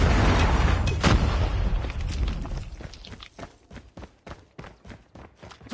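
A predator missile strike in a Call of Duty multiplayer match lands with a loud, rumbling explosion that fades over a few seconds, followed by quick footsteps running nearby.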